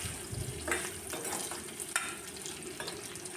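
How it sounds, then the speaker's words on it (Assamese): Bitter gourd and pork fry in a pan with a soft, steady sizzle, punctuated by occasional stirring scrapes and a light clink, heard up close without talk. "এইফালে ভাজিছোঁ কেৰেলা ভাজি আৰু এইফালে গাহৰি মাংস অকণমান আছিলে সেইখিনি ফ্ৰাই কৰি লৈছোঁ"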